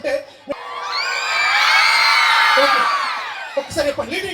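Crowd at a tree-planting festival event in Sathupalli erupts in loud cheering and whoops for a visiting guest, swelling for about two seconds before fading, with a few voices calling out around it.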